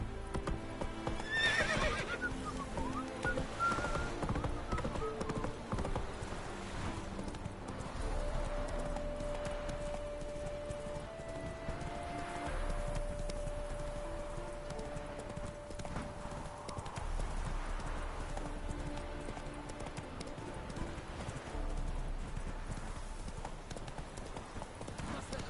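Hooves of the horse Roach clip-clop steadily in a video game, galloping under music, with a whinny near the start and faint voices at times.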